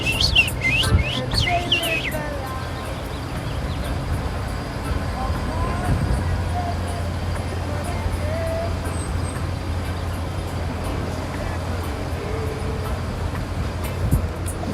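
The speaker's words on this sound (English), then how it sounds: "I hear the birds chirping." Birds chirping in downtown San Diego, a quick burst of high tweets near the start, then a constant roar of city traffic and passing vehicles.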